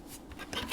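Thick vintage paper tearing by hand against a ruler, a soft rough rip that builds and grows louder toward the end.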